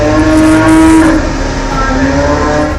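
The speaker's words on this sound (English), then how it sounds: "Blood-curdling bellows" Cattle in an English kosher slaughterhouse give a loud, sustained bellowing moo of distress, close and harsh, filling the whole moment with no talk.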